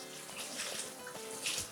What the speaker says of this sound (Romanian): Le clătim bine cu apă rece.